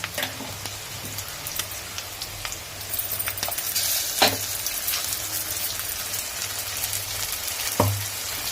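Ground masala paste sautés in a pan for a Tamil-style shark fish curry, giving a steady soft sizzle with a low hum beneath and occasional sharper clinks and scrapes, no voices.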